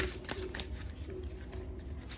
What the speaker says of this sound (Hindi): एक मास्टर कार्ड ले लेते हैं।